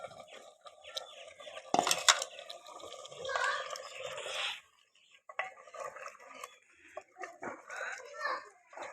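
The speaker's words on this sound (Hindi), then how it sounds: "एक बार ढक्कन उतार लेंगे।" A lid comes off a pot of desi chicken cooking in desi ghee, a brief loud metallic clatter, followed by softer scraping and stirring sounds while someone talks quietly nearby.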